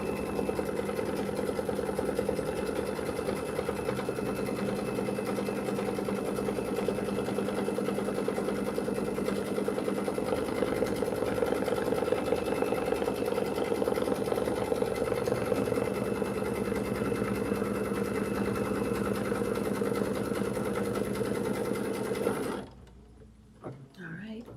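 A sewing machine quilting a Kimberbell jelly tote insert runs in one long, steady, fast stitching whirr close by, then stops abruptly near the end.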